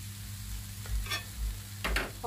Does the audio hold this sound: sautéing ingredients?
yes